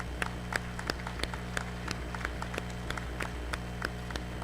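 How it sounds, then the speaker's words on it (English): Applause from the audience at a school district retirement reception, a modest, fairly faint ripple of scattered clapping heard from across the room. "Can we give them a round of applause?"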